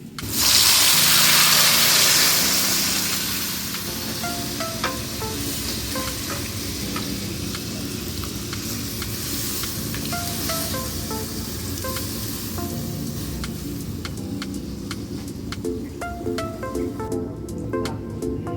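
Lentil dal is poured into a hot pan of fried onion and garlic for a fish-head dal. It gives a loud, close rush and hiss that settles after a couple of seconds into a steady bubbling sizzle.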